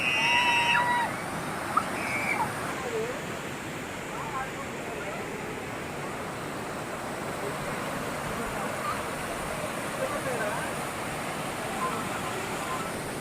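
Kollabylu waterfall at Madanapalle in Chittoor district, Andhra Pradesh, gives a constant broadband roar of rushing water, steady and fairly loud across the whole stretch, with a few brief voices and a faint whistle near the start.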